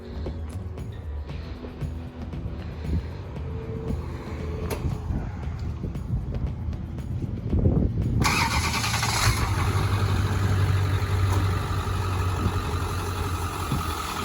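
A Ford F350 diesel truck engine cranks through rough, uneven turnover before catching and settling into a loud, steady idle close by.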